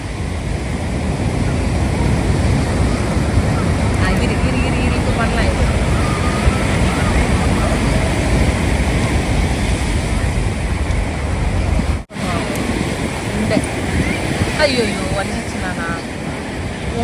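Surf washing onto Marina Beach in Chennai, a steady broadband roar of breaking waves with wind buffeting the microphone, running continuously beneath nearby voices.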